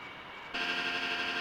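MD88 jet engines in a flight simulator spooling up to climb thrust, a steady broadband roar with a high whine that steps abruptly louder partway through and holds.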